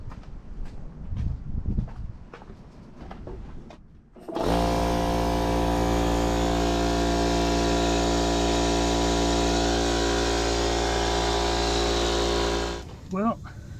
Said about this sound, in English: get some air pressure in that portable air compressor, and see if that tire will take air